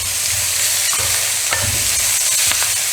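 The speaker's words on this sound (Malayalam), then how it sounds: "ഇത് ബ്രൗൺ കളർ ആകുന്നത് വരെ നന്നായിട്ട് ഇളക്കിക്കൊണ്ട് ഇരിക്കണം." Chicken curry masala with curry leaves stirred steadily in a hot pan, a continuous close sizzle with scraping strokes of the spoon, no talking.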